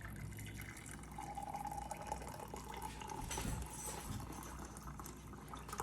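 Water runs into a mug to start a hot toddy, a steady quiet trickle and pour heard up close, with a faint clink of cutlery near the end.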